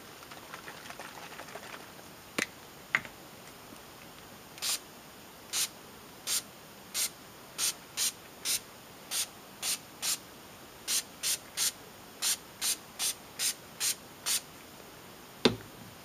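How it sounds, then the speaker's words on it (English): A spray bottle pumped in a long series of short, hissing bursts onto a canvas, spaced fairly evenly with brief pauses and no talking. "I'm going to use some of this spray."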